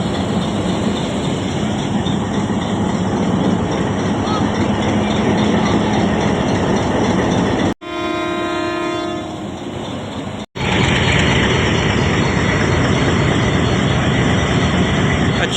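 Diesel passenger train pulling out of Kot Najibullah railway station, a loud sustained horn blast over steady engine and track rumble, with a brief break and a voice before the rumble resumes.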